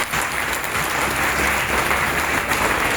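A church seminar congregation claps together in dense, sustained applause that stays loud and even from start to finish.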